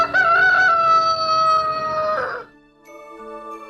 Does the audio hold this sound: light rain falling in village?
no